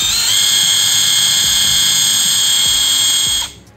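A Bull BL127 impact wrench spins freely at high speed, giving a steady, loud, high-pitched whine with faint low knocks underneath, then cuts off abruptly near the end.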